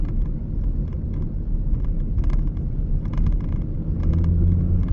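A 2008 Audi TT TFSI 200 Mk2 with about 180,000 miles on the road, heard from inside: a steady, loud engine and road rumble with a faint turbo whistle, engine note rising slightly toward the end.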